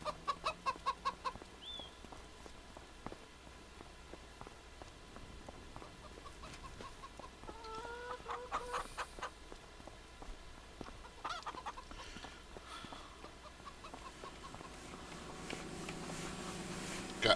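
Chickens cluck on a snowy winter farm in the video game Farming Simulator 25, with a quick burst of clucks at the start and then sporadic calls against a steady ambient background at moderate level.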